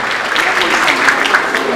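Audience applause greeting a guest speaker at the podium of a 2017 graduation ceremony, a dense, steady clatter of many hands, close and sustained throughout with no pauses.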